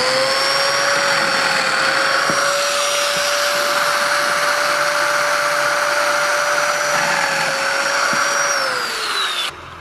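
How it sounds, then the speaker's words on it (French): Power drill boring into a wooden shelf panel, a steady high whine held loud and close for about nine seconds before it winds down at the end. "je vais percer à gauche et à droite"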